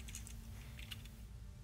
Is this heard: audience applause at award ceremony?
no